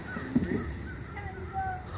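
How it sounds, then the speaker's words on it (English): Crows caw outdoors, a few harsh calls at moderate distance early on, then fading into a faint ambient background. "My goodness, listen to those crows."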